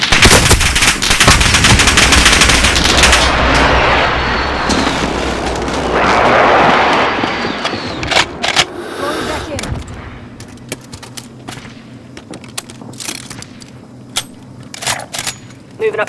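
Call of Duty: Warzone gunfire, loud bursts of rapid automatic weapon fire and explosive blasts dominating the first half, followed by sparser sharp shots and clicks with game voice lines underneath.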